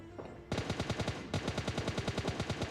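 A rifle in a battle-royale shooter is sprayed from a prone position, giving rapid automatic bursts: a short opening volley followed by a longer, evenly paced string of loud, close shots.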